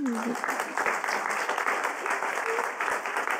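Brief burst of audience applause, a room full of hands clapping steadily, with a voice briefly audible over it.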